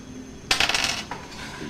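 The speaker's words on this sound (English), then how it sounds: "I will roll the dice." Dice are rolled during a game of Tactico, a short sharp rattle of hard pieces clattering and settling for about half a second, near and distinct against quiet.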